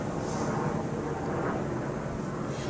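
Airplane passing overhead outdoors, a steady broad engine roar holding at a constant, moderately loud level throughout with no talking.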